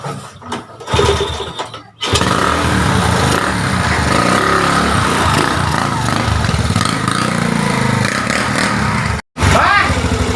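A motorcycle engine runs steadily and loudly from about two seconds on, a continuous droning rumble with a brief cut near the end, while people talk over it in Sundanese.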